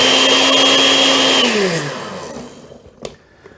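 A kitchen blender whirs loudly at high speed for about a second and a half, then its motor pitch slides down as it spins to a stop, followed by a faint clunk.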